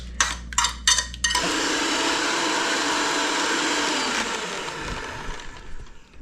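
A blender whirs loudly and steadily, mixing Viking pancake batter of eggs, maple syrup, olive oil, vanilla and milk, after a few short pulses, then winds down toward the end.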